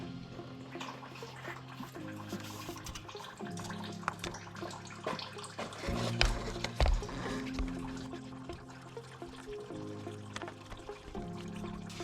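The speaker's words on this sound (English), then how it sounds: "Let's drain the coolant." Coolant draining from a 2006 Mercedes R500 during a thermostat change, a steady trickling pour of liquid running on and off at low level, with a few faint clunks near the middle and no talk.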